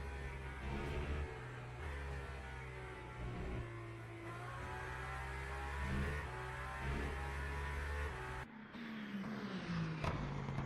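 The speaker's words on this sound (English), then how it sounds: "Full-blooded V12 engine. None of this hybrid stuff, just pure straight cut V12." An onboard race car with a straight-cut V12 engine, a faint, steady, buzzing drone with slight rises and falls in pitch, shifting abruptly near the end.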